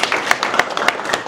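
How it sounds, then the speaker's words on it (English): Wedding guests clapping, a brief burst of close, uneven hand claps with a few sharper strong claps standing out. "So give them a clap."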